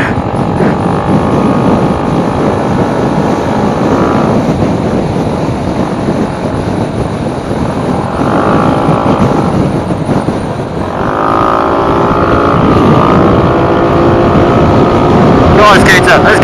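A scooter engine drones loudly and steadily during a chase on the road, its pitch climbing and dropping with acceleration under constant wind noise.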